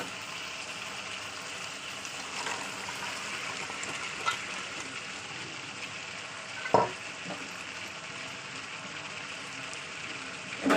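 Chopped yardlong beans sizzle in hot oil in a pan, a soft steady fry with a few louder stirring knocks, moderately faint and without talking.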